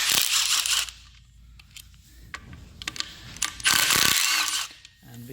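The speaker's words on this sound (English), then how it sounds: "So now I continue with the 10mm socket." A ratchet with a 10mm socket removes bolts from a Toyota 1GR-FE 4.0-liter V6 engine: loud bursts of rapid metallic clicking, close by, separated by quieter handling clinks and pauses.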